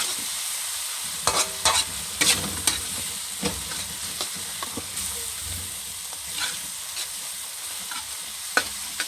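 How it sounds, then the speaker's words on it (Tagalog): Octopus being stirred in a hot pan, with scraping strokes and clacks of the utensil over a light steady sizzle, irregular and close, with no talking. "Para natin haluin mga guys."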